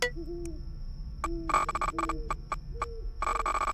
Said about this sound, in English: I hear owls outside.